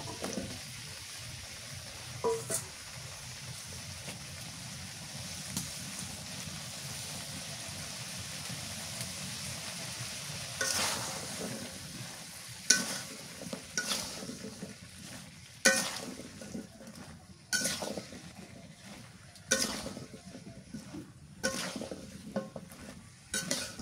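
Pumpkin pieces stirred and fried in a pan of shrimp curry, a steady low sizzle with scraping spoon strokes and sharp clinks of utensil against pot growing more frequent toward the end.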